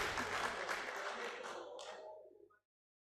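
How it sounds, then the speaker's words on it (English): Audience claps in a round of applause during a financial literacy talk on household budgeting, a dense burst of clapping that tapers off and stops abruptly just before the end. "A round of applause."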